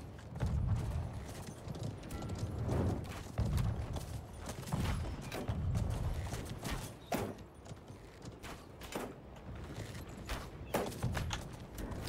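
Horse hooves galloping in the video game Conqueror's Blade during a siege battle, a rhythmic thudding clip-clop repeating steadily amid battle noise and distant clashes.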